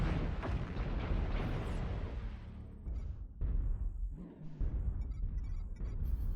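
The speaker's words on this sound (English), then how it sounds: "Airstrike online." Video game airstrike: a heavy explosive roar at the start decaying into rumbling blasts and scattered booms, loud and close, with sharp electronic tones breaking in later.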